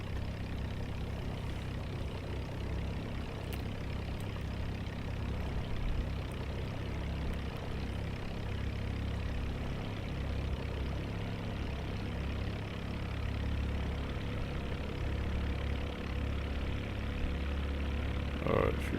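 A small plane's engine runs at low throttle in flight, a continuous low, even drone heard from inside the cabin with no breaks.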